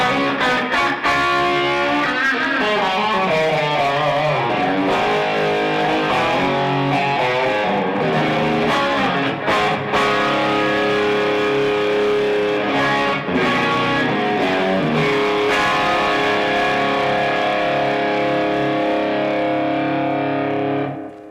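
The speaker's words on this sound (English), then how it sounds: "So now here's our distortion." An electric guitar plays through a Boss SD-1 overdrive pedal set to a mild crunch, a loud, steady stretch of distorted chords and riffs lasting about twenty seconds with no talking.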